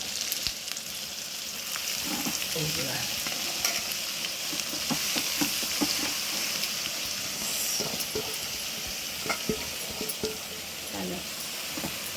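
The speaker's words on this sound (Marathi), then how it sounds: "आता लाल भाजी घालते" Onion and red amaranth greens fry and stir in a pan for a simple village meal, a steady close sizzle with scraping stir strokes throughout and no talk.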